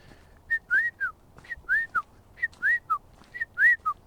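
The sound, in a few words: person whistling imitating a bird call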